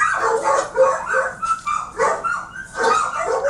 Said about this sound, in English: Them dogs calling for help.